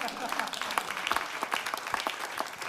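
A studio audience at a Bulgarian television comedy show applauds in a steady, lively patter of many hands clapping, fairly close and continuous.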